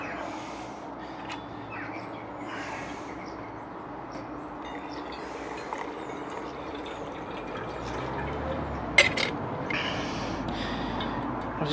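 Water poured into a Stanley reusable pour-over coffee filter, a soft, steady trickle and splash that runs quietly throughout with a few faint drips and a brief clink near the end.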